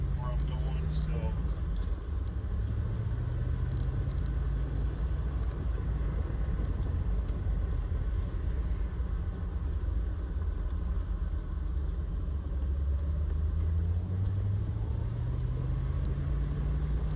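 A C4 Corvette cruises along the road from inside the cabin, its engine a steady low rumble with rising and falling tones as it shifts gears, with a voice talking over the drive.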